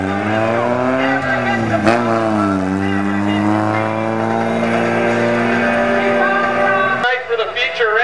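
Race cars roar around the Capital City Speedway oval in a feature race, engines droning loudly and steadily with rising and falling pitch as they pass, under constant commentary.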